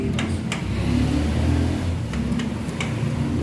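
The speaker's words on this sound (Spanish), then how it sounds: "Vamos a encender el motor de nuevo" A Bajaj Pulsar 135 motorcycle engine idles steadily after a repair, a close continuous low rumble with a few faint ticks and no talk.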